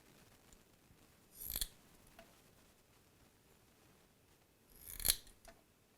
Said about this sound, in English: take a pair of cutters, and then cut the wick off just right at the very bottom of that O-ring